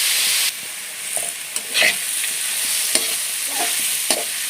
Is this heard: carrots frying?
yes